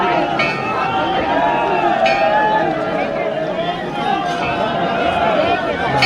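Pilgrim crowd along the trek route to Kedarnath, a steady dense murmur of many voices close around with no break, a nearby speaker's voice rising above it at times.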